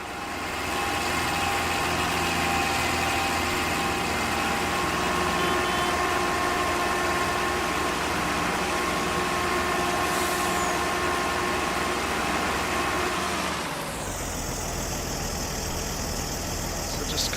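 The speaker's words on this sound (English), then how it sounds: "All the engine sounds are completely custom." A custom-made tractor engine sound in Farming Simulator 22 idles with a low rumble and a constant mechanical hum, then the tone shifts abruptly near the end to a higher, thinner drone.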